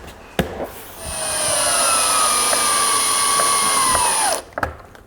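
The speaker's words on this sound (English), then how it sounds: "So I've just got the two screws to put through there." Two screws are driven by a power drill through a Keylite roof flashing kit on a tiled roof, one long continuous whirring run that slows toward the end, with short taps just before and after.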